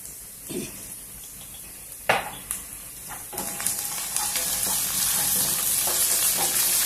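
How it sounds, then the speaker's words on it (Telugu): Ginger paste frying with onions in a pan for an egg curry with cluster beans, a steady oily sizzle that thickens and grows louder over several seconds, broken early by a few sharp clinks of a spoon against the pan. "కొద్దిసేపు వేయించుకున్నాము అల్లం పేస్ట్ పచ్చి వాసన పోయేంత వరకు"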